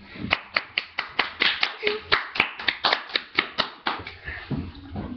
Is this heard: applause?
yes